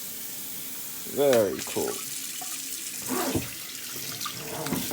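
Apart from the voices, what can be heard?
water running from laundry faucet into sink drain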